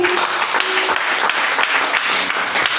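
A church congregation at a Swahili worship service applauds, a dense, continuous patter of many hands clapping together for a few seconds.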